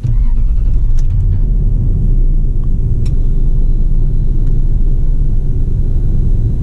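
A 2000 Toyota Land Cruiser with about 323,000 miles idling, a steady low engine rumble heard from inside the cabin with a few faint clicks and thumps.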